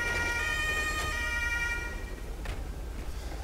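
Police siren in Grand Theft Auto 5 blaring close and loud, a sustained electronic tone that cuts off midway, leaving low vehicle rumble and a couple of brief knocks behind.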